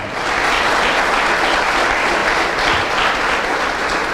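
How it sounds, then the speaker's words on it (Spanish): A church congregation applauds during a sermon, with dense, steady clapping that runs loud and unbroken across the whole stretch, with no pause or fade. "Denle un aplauso fuerte a Cristo"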